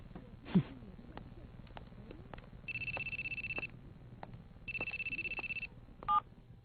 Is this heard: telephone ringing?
yes